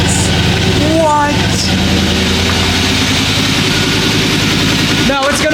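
A Mustang idles with a catless 2.5-inch BBK H-pipe and Flowmaster mufflers, a loud, close, deep burbling rumble with a steady lumpy pulse, and voices briefly break in over the engine.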